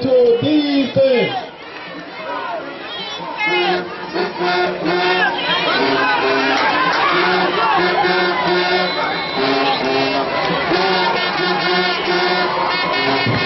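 A crowd cheers and shouts in the stands at a high school football game, a loud, dense roar of many voices that swells at the start and stays busy throughout.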